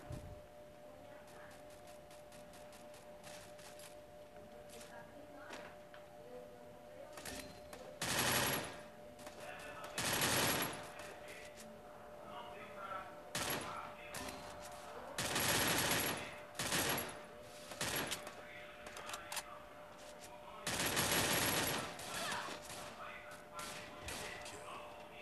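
Bursts of gunfire from a Free Fire ranked match, several loud volleys spaced a few seconds apart over steady game ambience, with a voice speaking throughout.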